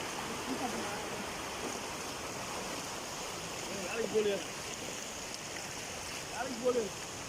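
Water overflowing from Thusur Lake in Namakkal district, India, rushes and spills steadily in a continuous broad roar outdoors, with a few faint voices rising briefly in the distance.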